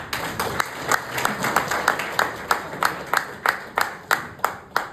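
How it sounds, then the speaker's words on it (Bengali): An audience at a talk on self-treatment claps for a doctor, with sharp, evenly spaced claps in a steady rhythm, close and fairly loud. "আমরা জোরে করতালি দেবো ডাক্তার সুবীর কর্মকারের জন্য।"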